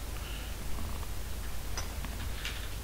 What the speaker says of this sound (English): My cat is sitting on my shoulders.